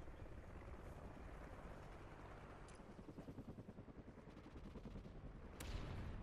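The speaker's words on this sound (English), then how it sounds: "Friendly chopper inbound." Friendly helicopter in Call of Duty Ghosts on PS4: a dense, continuous rotor drone with a rhythmic thumping pulse mid-way, mixed with bursts of gunfire and a sharp shot near the end, fairly loud throughout.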